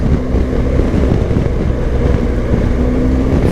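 A BMW R 1250 GS motorcycle on a test ride gives a loud, steady engine drone mixed with wind rush against the microphone, with no talking.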